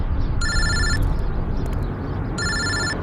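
Telephone ringing for an incoming call from an unknown number, two bursts of an electronic bell ring separated by a pause, loud and close, with no talk over it.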